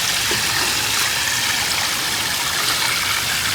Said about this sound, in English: I'm gonna continue to water the garden.